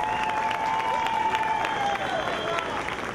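A crowd at a youth group's street performance in Colonia La Reformita claps and cheers steadily, a moderate, continuous patter of applause with voices and a faint tonal hum underneath.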